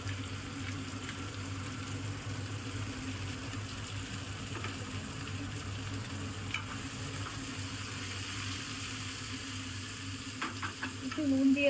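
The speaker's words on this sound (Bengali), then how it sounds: "একটু ফ্রাই করে নিলাম।" Beans and carrots frying in a pan for egg chowmein, a soft continuous sizzle under a low steady hum, with a few light utensil clicks near the end.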